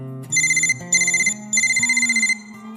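A telephone rings three times in quick electronic bursts, each a trilling ringtone with short gaps between, loud and close with no one talking.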